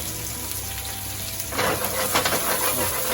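Ingredients for a rabbit dish begin to fry in a pan, a soft background hiss that swells into a louder, crackling sizzle about halfway through, close and steady without talk.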